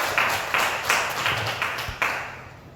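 Applause for Kim Seong-su at a 57th-anniversary monthly meeting of a civic association, several surging bursts of clapping from a crowd that swell and fade over a few seconds.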